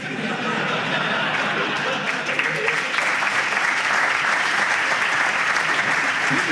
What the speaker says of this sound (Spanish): un aplauso fuerte para Víctor